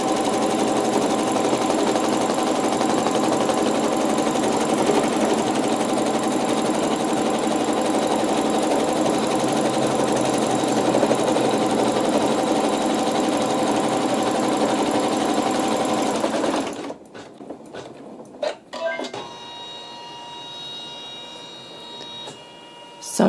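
A sewing machine stitches embroidery, holding wool down under the foot, with a fast, steady, loud mechanical whirr and chatter for about seventeen seconds, then stopping into softer clicks and handling noises.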